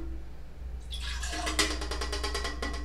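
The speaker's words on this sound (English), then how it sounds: "We pour it into the bigger one." Darkroom developer for black and white film is poured from a small measure into a bigger container, a thin trickling splash that begins partway in and runs continuously, close and fairly quiet, with no voices.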